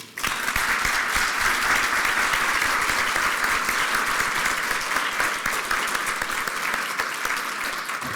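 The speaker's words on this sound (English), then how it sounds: "Would you please join me in a round of applause to thank Lenny" An audience at an annual grassroots award ceremony gives a steady, sustained round of applause lasting several seconds, dense and even, with no voices standing out.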